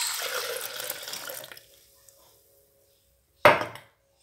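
A blender is rinsed under a running tap, with a close, steady rush of water that stops. A brief quiet follows, then a sharp splash or knock.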